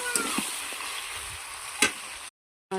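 Potatoes and spices frying and being stirred in a pan for a cabbage dish, a steady close sizzle with a few scraping spatula strokes and a sharper clatter near the end, then a brief silence before the frying resumes.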